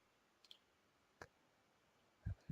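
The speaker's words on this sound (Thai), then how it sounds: "คลิกที่ next" Computer mouse clicks on the Next button of a software installer: a few faint, isolated ticks spread across a quiet room, followed by two louder low thumps.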